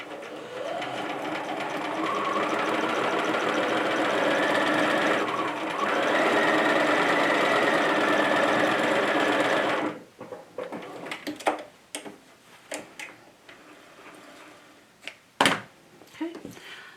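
A sewing machine running a 2.5 straight stitch through sheet fabric, a fast continuous whirring hum for about ten seconds that then stops, followed by quieter handling clicks and rustles.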